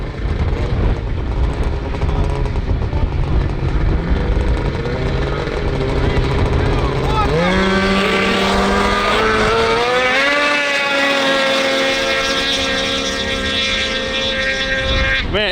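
An IQR race snowmobile engine warming up outdoors in cold, windy weather, a loud continuous two-stroke drone that holds at a rough idle, then rises and wavers in pitch as the throttle is blipped up and down.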